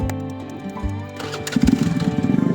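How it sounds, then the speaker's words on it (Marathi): A vehicle engine cranks and catches at a petrol pump, a low steady churn giving way to a louder, rougher running rhythm near the microphone. "गाडी चालू केली"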